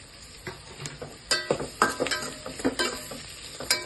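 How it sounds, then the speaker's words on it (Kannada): Onions fry in a pan for dal fry, a soft steady sizzle broken by repeated close stirring scrapes and light clinks of a utensil against the pan, with no voices. "ಇದು ಗೋಲ್ಡನ್ ಕಲರ್ ಆಗೋವರೆಗೂ ಫ್ರೈ ಮಾಡ್ಕೊಳ್ಳಿ"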